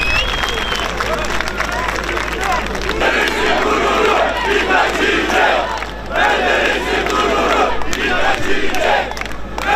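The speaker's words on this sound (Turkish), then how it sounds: "Çok büyük alkışlarım." A large crowd at an outdoor political rally in Izmir, held despite thunder and heavy rain, cheers, chants and applauds loudly in sustained waves, with a voice over a loudspeaker partly heard beneath.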